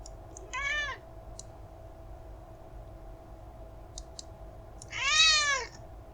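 Domestic cat meowing indoors, two clear meows a few seconds apart, the second louder and longer, with faint clicks in a quiet room between them.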